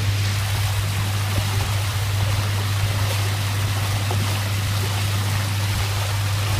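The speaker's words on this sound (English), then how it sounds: "The water feels soft, but it's got a lot of energy when it's going through like this" Floodwater surges steadily over a heavy iron manhole cover spinning in the flow, a loud, constant rushing wash with a low steady hum underneath and no voices.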